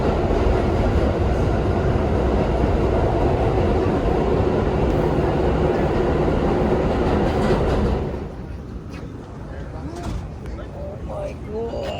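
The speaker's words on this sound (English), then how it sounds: "First time on the train." Steady, loud rumble of a New York City train rolling along the rails, filling the first eight seconds before dropping to a quieter, muffled interior hum with faint voices.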